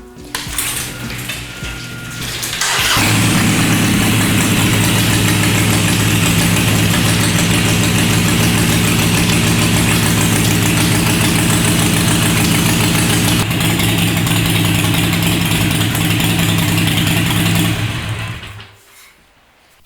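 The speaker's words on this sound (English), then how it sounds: "I'm going to go ahead and start the bike up, let it run for a little bit" A Harley-Davidson Iron 883 motorcycle engine starts and settles into a steady, loud idle, rumbling close up without interruption for about fifteen seconds before cutting off.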